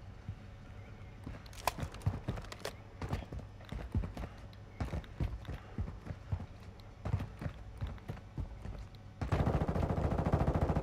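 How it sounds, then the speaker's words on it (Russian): Rapid bursts of gunfire in Call of Duty: Warzone 2 on the Al Mazrah map, sharp distant-sounding shots in irregular clusters over a steady low background hum, ending in a louder wash of noise. "Где-то здесь стреляют они."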